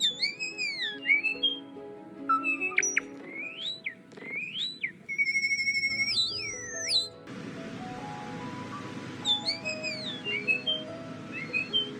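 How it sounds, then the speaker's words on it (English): A talkative songbird pours out varied whistles, sliding pitch sweeps, warbles and clicks in a near, busy stream of calls, with a noisier stretch of rustling and chatter partway through and no talking. "Not only can they use a large number of their own vocal elements, such as whistling, hissing,"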